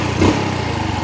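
A small Honda Wave motorcycle engine misfiring at high revs, running loud and close, chugging with an uneven, sputtering rhythm that cuts out.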